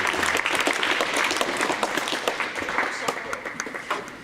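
An audience at a high school comedy hypnosis show applauds with dense, steady clapping that fades slightly toward the end, and a voice is audible over it.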